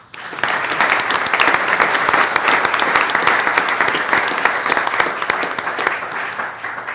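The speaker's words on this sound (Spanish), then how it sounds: "Pedimos un aplauso para el doctor Lyman D." A lecture audience at a Spanish-language genealogy conference bursts into applause for a speaker being introduced, dense continuous clapping that starts abruptly and holds loud and close.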